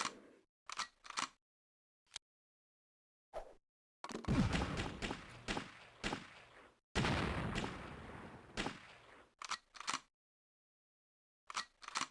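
Sharp bursts of grenade explosions and clattering impacts in a Mystery Triathlon video game match, arriving in separate clusters between silent gaps, with a few longer dense stretches of blast noise.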